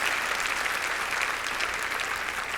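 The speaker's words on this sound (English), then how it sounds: "if you would give me a round of applause" A room full of people applauds at a nonprofit board of directors' inaugural address: dense, even clapping sustained at fairly loud level throughout, with no voices over it.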